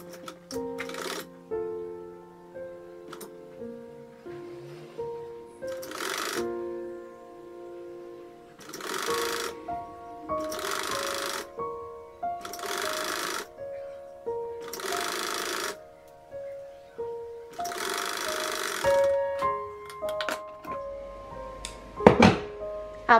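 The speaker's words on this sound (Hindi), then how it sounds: "एक मैं आपको मशीन से सिल के दिखाती हूँ कि इस तरीके से हमें पट्टियां बनानी है।" A sewing machine stitches folded fabric strips for a doormat in repeated short bursts of rapid mechanical whirring, separated by pauses and handling clicks, close and clear with no talk.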